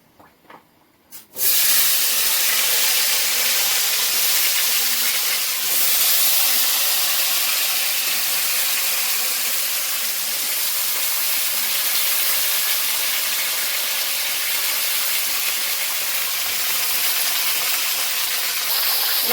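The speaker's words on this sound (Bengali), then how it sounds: "আলুগুলো ভেজে নেব মাছ ভাজা তেলে" Potatoes fry in oil left over from frying fish, a loud continuous close hiss that bursts in suddenly after a couple of quiet taps and then holds steady to the end.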